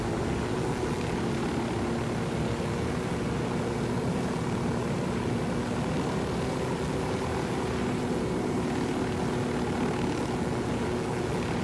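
A helicopter flies in the video game Ghost Recon Wildlands, giving a continuous, loud, dense engine and rotor roar that holds steady without letup for the whole stretch.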